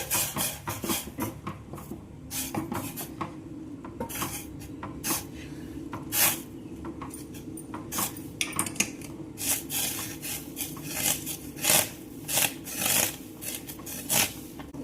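Rice flour being stirred in a pan over a low flame for a homemade disco papdi snack, giving rhythmic dry scraping and rubbing strokes that repeat close up with no talk.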